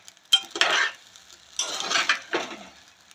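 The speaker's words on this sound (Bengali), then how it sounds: "আমার চালটা ভাজা হয়ে গেছে" Rice is stirred as it fries in a pot for khichuri, three short bursts of scraping and sizzling from a spoon against the metal, close up with quiet gaps between strokes.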